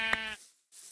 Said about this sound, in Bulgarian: Така, овце. Ето една.